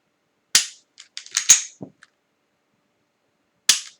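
Three sharp gunshots from a Smith & Wesson M&P M2.0 Compact pistol in flat dark earth finish, two close together near the start and one more a few seconds later, each loud and crisp with faint clicks and clatter between them.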